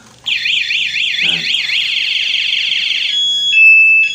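A motorcycle alarm on an RS 125 wails in a fast warbling pattern up close, then shifts to a steady high tone before cutting out.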